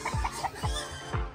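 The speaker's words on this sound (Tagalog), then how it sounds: "Ito yung mga manok ng aking kapatid." Fighting cocks kept by a family cluck close by, a few short, throaty calls in an uneven rhythm, with low thumps between them.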